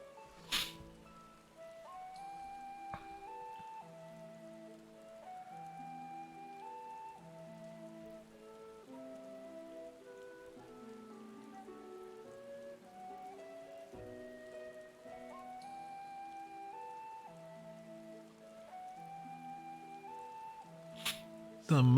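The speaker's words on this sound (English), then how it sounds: "It's raining in game" Steady rain in the video game Final Fantasy XIV patters softly beneath gentle melodic music, with a couple of sharp clicks near the start and end.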